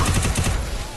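Rapid automatic gunfire from the mobile shooter game Free Fire, a quick burst of about five close, loud shots in the first half second that then trails off.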